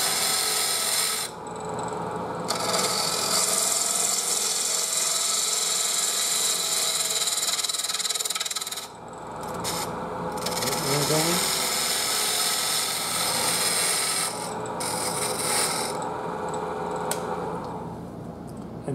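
A bowl gouge cuts a wooden bowl spinning on a lathe, a steady close rasping scrape that runs nearly continuously with a couple of brief breaks, a voice talking faintly underneath.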